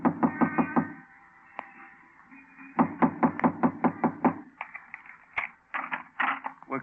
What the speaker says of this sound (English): Knock on the door.